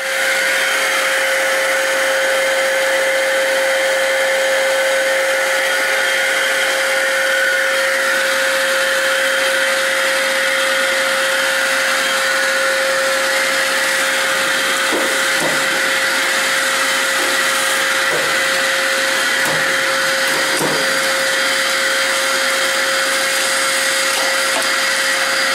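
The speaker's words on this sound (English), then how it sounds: "I just vacuumed behind the washing machine" A vacuum cleaner works behind a washing machine in a laundry room, a loud, steady, whining drone that holds without a break for the whole stretch, with faint knocks near the end and no talking.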